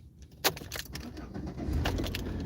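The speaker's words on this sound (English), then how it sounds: "Now the car is started." A car engine started with a key cranks and catches, preceded by the jingle of keys, then settles into a steady low idle close by, with no talking.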